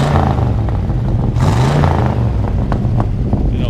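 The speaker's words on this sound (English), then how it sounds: "Go ahead and rev it up. It's got true dual exhaust." A 1972 Chevrolet C20 custom cab pickup with true dual exhaust revs up close and loud, its engine note rising and falling in a steady throaty roar with a few sharp rev blips.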